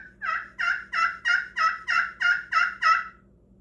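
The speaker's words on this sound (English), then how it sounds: "and then we have that gobble," A wild turkey gobbler gobbles loudly and close in a turkey-hunting setting, a single rapid rattling run of about nine quick pulses lasting roughly three seconds, with no other sounds.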